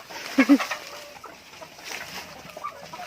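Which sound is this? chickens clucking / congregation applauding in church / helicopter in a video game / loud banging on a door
chickens clucking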